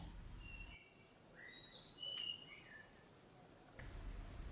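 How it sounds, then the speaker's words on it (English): A whistling thrush sings at dawn outside a hotel balcony in Pelling, Sikkim, giving a few clear, high whistled phrases in a quiet, faint setting. "The whistling thrush started singing."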